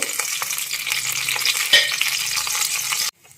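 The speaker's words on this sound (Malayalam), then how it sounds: "കരിവേപ്പില ഇടുന്നു." Steady, crackling sizzle of curry leaves dropped into hot oil with mustard seeds and urad dal, loud and close, with a brief louder burst partway through before it cuts off abruptly.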